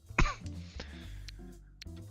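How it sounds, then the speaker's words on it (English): A single sharp cough close to the microphone during a Riichi Mahjong livestream on Mahjong Soul, followed by a low throat rumble and faint clicks from the game. "And I'm coughing."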